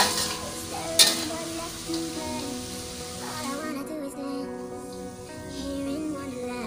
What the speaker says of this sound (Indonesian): Goreng tempenya nggak usah garing-garing ya teman-teman, cukup sampai kayak gini aja nih